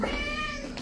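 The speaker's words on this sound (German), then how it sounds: "Katze." Indoors at home, a cat lets out one short, loud, close meow with a drawn, wavering tone, alone without any speech over it.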